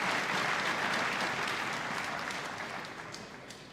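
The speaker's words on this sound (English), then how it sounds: "Muted applause for the match next door" Muted applause from a neighbouring badminton match in a large arena on semi-finals day, a steady distant wash of clapping that slowly fades over a few seconds.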